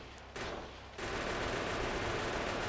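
Rapid, sustained gunfire from armor-piercing ammo in Factorio, a dense continuous burst that thickens after the first second and holds steady and loud to the end.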